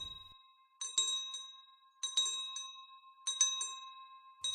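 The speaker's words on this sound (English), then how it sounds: "A bell was heard ringing from the town." A bright bell rings in three separate bursts of quick dings, each ringing out and fading before the next, clear against silence.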